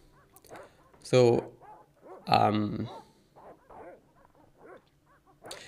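Dogs bark in the video game Broken Sword: The Shadow of the Templars, two loud close barks spaced about a second apart, while someone talks quietly before and after.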